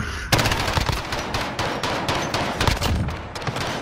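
Rapid automatic gunfire in the video game Modern Warfare during a gunfight tournament match, loud, close bursts of shots in quick succession that barely pause.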